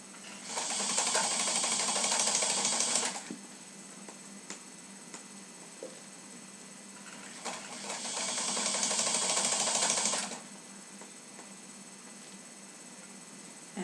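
A sewing machine stitches a French seam in two loud, steady whirring bursts of about three seconds each, separated by a quieter pause with faint handling sounds.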